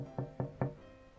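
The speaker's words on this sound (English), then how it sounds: "she heard someone knocking at the window of her room" Three evenly spaced knocks rap on a window of a girl's room in a fairy tale, crisp and close, followed by a quiet pause.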